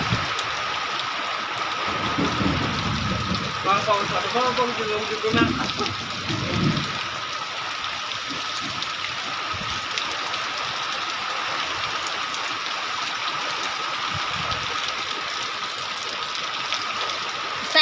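Heavy rain hisses steadily and evenly throughout in a small village in Latur district, with a person talking briefly early on beneath the downpour.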